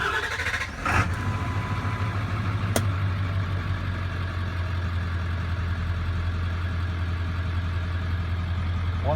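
A 2001 Ford F250 manual diesel Lariat cranks and catches near the start, then settles into a steady, low idle that drones on close and even for the rest of the stretch, with no talk.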